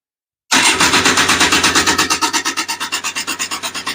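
Loud rhythmic cranking of an Odyssey FL350 engine fitted with a Lectron carburetor, repeated rasping starter pulses that slow slightly over a few seconds without the engine catching.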